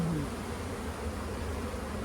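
Honey bees buzz steadily at a hive where a package colony builds comb and stores food, a continuous close drone at even volume with no voices.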